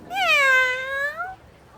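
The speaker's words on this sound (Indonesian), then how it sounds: "Kucing, lucu sekali." A cartoon cat gives one clear, drawn-out meow that rises and then slides down, loud and close, with nothing else sounding.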